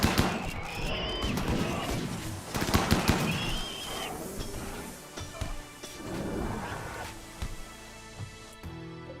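The War Queen's auto-tracking turrets fire in a video game, rapid crackling bursts and bangs scattered unevenly across a noisy battle soundscape.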